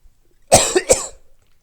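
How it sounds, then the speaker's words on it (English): Two or three close, loud coughs from a person with a seasonal cold, bursting out in quick succession and then stopping, with no talk around them. "I'm coughing up a storm because it's that time of year"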